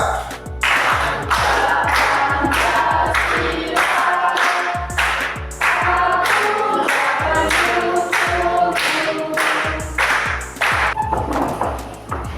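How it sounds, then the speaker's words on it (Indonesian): A class claps hands together, producing a run of sharp, close, loud claps in a fairly regular beat, with a short pause midway. "Oke, semua tepuk tangan ya."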